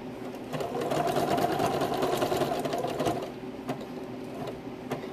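A sewing machine stitches a turkey-shaped pillow, running as a steady, continuous mechanical whir that stays loud and close throughout, then eases slightly near the end, with no talking.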